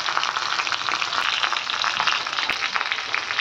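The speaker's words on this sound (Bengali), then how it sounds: "এইদিকে দেখো মাছ ভাজা বসানো রয়েছে, মাছ ভাজা হচ্ছে" Fish fries in a pan with a loud, steady, crackling sizzle that runs throughout and has scattered small pops.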